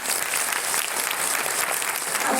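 Dense, loud applause from a hall full of teachers clapping for themselves at a state-level Teachers' Day award ceremony, a steady broadband roar with no gaps.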